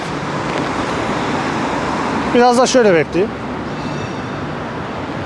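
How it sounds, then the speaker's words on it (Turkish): Steady traffic rolls along a street in Belgrade, a continuous wash of passing cars close by, with someone speaking briefly over it midway. "Bak arabalar gelip geçiyor doğru mu?"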